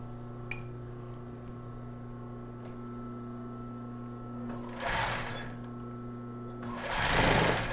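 A domestic sewing machine stitches lace underwear with a steady mechanical hum and whirring needle drive, close and continuous, with two brief louder bursts of faster sewing near the end.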